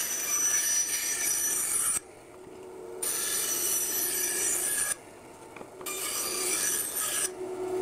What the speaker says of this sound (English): Let's go over to the bandsaw and do some cutting.